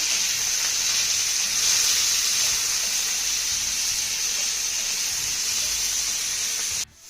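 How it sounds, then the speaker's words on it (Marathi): Chopped onion and tomato sautéing in a pan give a steady, even sizzling hiss that carries on unbroken, close and fairly loud, ending abruptly. "आता हे सर्व साहित्य आपल्याला चांगलं मौसूक परतून घ्यायचं आहे"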